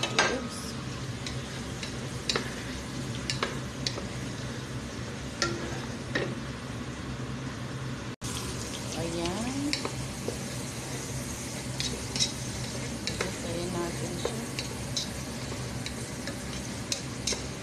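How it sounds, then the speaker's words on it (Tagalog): Cubed onions and tomatoes frying in a pan for kabsa, giving a steady low sizzle with scattered ticks and stirring scrapes throughout, fairly quiet and with no talk over it. "Gigisa natin yung sibuyas na hinihiwa siya ng cubes malalaki."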